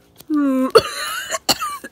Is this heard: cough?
yes